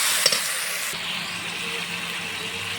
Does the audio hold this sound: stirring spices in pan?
yes